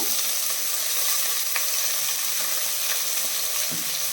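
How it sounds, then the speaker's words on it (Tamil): Sliced onions go into oil where whole spices are already frying for egg biryani, producing a steady close sizzle with a few faint clicks and scrapes of stirring, and no talking. "இப்ப வெங்காயம் சேர்த்துக்கலாம். 3 பெரிய வெங்காயம் இந்த மாதிரி ஸ்லைஸ் பண்ணி வச்சிருக்கேன்"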